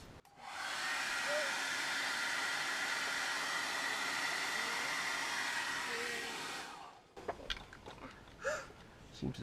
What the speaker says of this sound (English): You guys want to grab the hairdryer?